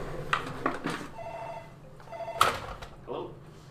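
An incoming call sets a phone ringing during a gaming session, with brief bursts of ring mixed among a person's voice and some clattering, fairly close and moderately loud.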